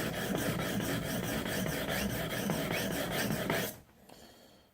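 A steel knife blade rasps in steady, rhythmic strokes across a sharpening stone, loud and close, for nearly four seconds before stopping abruptly, leaving faint scraping behind.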